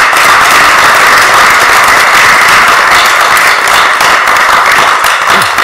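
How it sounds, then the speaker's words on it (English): Loud, dense round of applause fills a city council chamber, many hands clapping steadily and evenly throughout with no break. "Could we give them a round of applause?"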